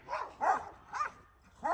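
Dogs bark at a visitor on a rural ranch property, four short sharp barks at moderate distance with brief gaps between them.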